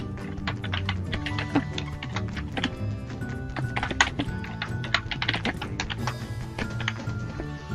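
Rapid keystrokes on a computer keyboard as a password is typed, a steady run of close, clicky taps with uneven rhythm and no voices.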